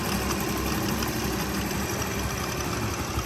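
Honda Wave 110 motorcycle engine idling steadily, a close, even, unbroken putter that stays at a constant pitch throughout, with no voices.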